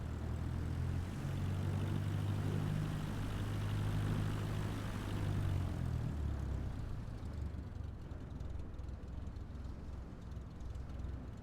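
A Cessna 172 propeller engine in Microsoft Flight Simulator throttles up, giving a continuous droning hum that holds steady and then shifts in tone partway through, alone without voices.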